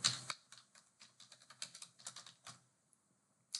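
Computer keyboard typing a short phrase, a quick irregular run of close, crisp key clicks lasting under three seconds and ending in a single tap.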